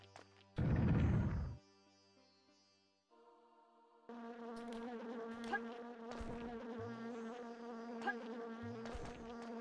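Bees in the video game Alundra 2 buzz in a steady, droning hum under game music, following a brief loud impact near the start.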